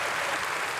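Brief burst of audience applause at a developer conference in Denver, dense and steady clapping filling the whole short moment without a pause.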